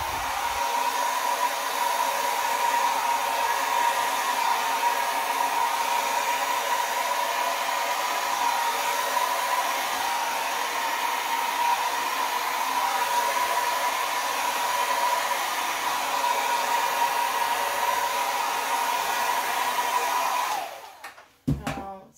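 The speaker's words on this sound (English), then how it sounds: "And we'll get the hair dryer and blow this around." A hair dryer blows steadily and loudly across wet acrylic pour paint for a long stretch, then cuts off abruptly near the end.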